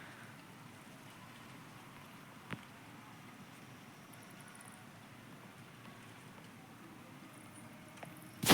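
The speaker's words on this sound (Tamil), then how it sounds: "ஆனால் இங்கே மழை பெய்ய ஆரம்பிச்சிருக்கு." Steady, faint rain patter in the Real Cricket 24 video game during a CSK vs KKR match, a soft, even hiss with a couple of brief clicks.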